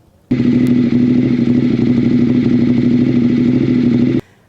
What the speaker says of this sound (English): She also has a throaty L-twin Testastretta, and that chord-out exhaust sounds awesome too